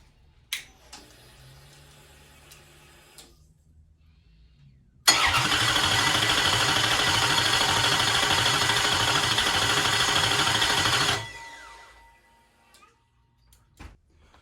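A loud 1970 Plymouth Cuda Gen 3 Hemi V8 on an engine stand cranks steadily for several seconds with a rhythmic chugging starter whir, then stops without catching; faint clicks before and after.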